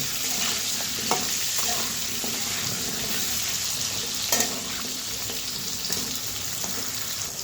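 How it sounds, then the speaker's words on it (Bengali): Pointed gourd (potol) pieces frying in oil with a little turmeric and salt: a steady close sizzle runs throughout, broken by a few sharp spatula taps and stirring scrapes, without speech. "পটলগুলো হালকা হালকা ভেজে নিয়েছি"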